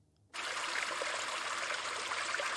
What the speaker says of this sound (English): I can just think that bubbling brook sitting there and just that stream